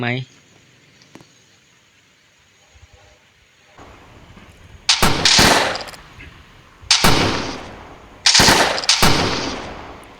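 Loud bursts of rapid automatic gunfire from the Roblox Toilet Tower Defense game come in three separate volleys after a quiet start.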